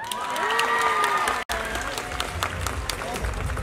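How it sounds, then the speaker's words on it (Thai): An audience at a Mister International Thailand 2022 pageant applauds and cheers, a dense crowd roar under a voice over the speakers, with a brief cut partway through. "ขอเสียงปรบมือดังๆอีกครั้งหนึ่งนะคะ"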